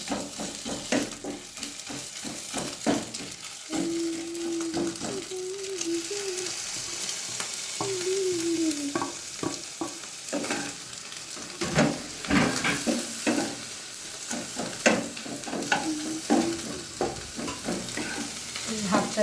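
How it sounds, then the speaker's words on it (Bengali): Cooked rice stirred and fried in a hot pan with egg, a busy sizzle broken by frequent spatula scrapes and clinks against the pan, with a faint voice briefly in the background. "দেখতে পাচ্ছেন ভাত দেওয়া হচ্ছে।"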